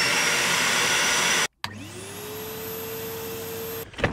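A cheap household vacuum cleaner roars at steady volume for a loudness test, cuts out briefly, then restarts with a rising whine that settles into a constant hum before stopping.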